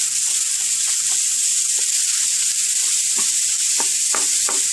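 Ground beef sizzles steadily in hot oil in a skillet, a loud continuous hiss broken by soft scraping taps as a spatula breaks the meat apart, the scrapes coming more often toward the end.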